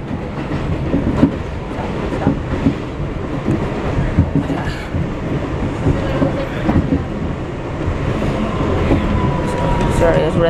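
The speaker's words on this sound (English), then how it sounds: "And there's another express train up there." An R62A subway train rumbles steadily along the tracks with rhythmic clattering wheels, loud and close, with brief voices faintly under the noise.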